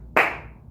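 A single sharp hand clap closing a beginner tap dance step, close and bright, with a short ringing decay and nothing else heard.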